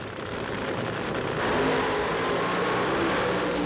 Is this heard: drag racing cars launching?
yes